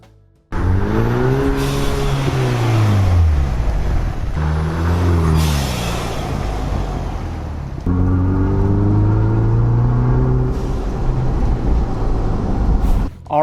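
A 2.3-liter Ford Bronco fitted with a Turbosmart Dual Port blow-off valve revs up in three loud climbing pulls. Each rev ends in a sharp hissing burst of venting air, and the engine stays close and steady in between.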